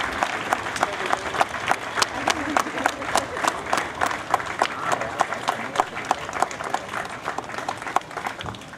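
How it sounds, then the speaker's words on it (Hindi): Sustained audience applause at an Independence Day ceremony at the Banaras Rail Engine Factory in Varanasi, with sharp individual claps standing out above a steady, dense roar of clapping throughout. "जी हाँ, पुनः जोरदार तालियां।"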